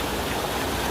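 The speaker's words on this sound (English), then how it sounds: "We found a mini waterfall." A small waterfall stream in Lancashire, UK, gives off a dense, steady rush of falling water, heard up close for under a second with no voices.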